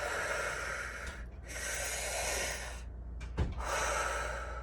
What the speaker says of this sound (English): Like just take those deep breaths,